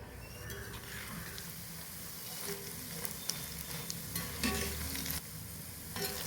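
Kara boondi, small gram-flour drops for a Diwali snack, frying in hot oil: a loud, dense, steady sizzle with occasional stirring clinks, no voices.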